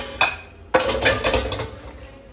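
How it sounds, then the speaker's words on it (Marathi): Leftover steel utensils are scrubbed in a home kitchen: two sharp clanks of pots knocking together, then a run of scraping and light clinking, close and fairly loud. "राहिलेली भांडी तेवढं घासून घेते थोडीशी."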